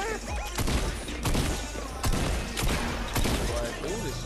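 Repeated bursts of gunfire in the video game Fortnite, several loud volleys in quick rhythm with in-game effects between them, close and punchy.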